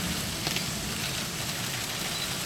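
A rain sound effect plays during a stage play, a dense, steady hiss of falling rain that fills the whole short stretch evenly, with no voices over it.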